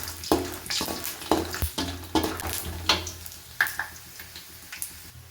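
Peanuts frying in hot oil in a pan for a mandakki (puffed rice) tempering, with a steady sizzle and a series of sharp stirring scrapes and clinks at regular intervals, close up and without talk.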